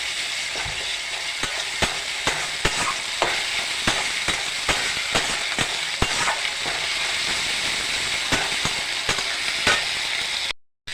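A paste of tomato, green chili and ginger sizzles steadily in hot oil in a pan, with a constant crackling hiss and scattered sharp pops, close and alone with no voices.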